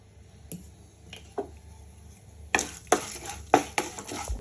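Mustard seeds, cumin, chana dal and urad dal tempered in hot oil in a pan, heard as scattered sharp pops and crackles, sparse at first and then clustered in louder bursts toward the end, with no talking.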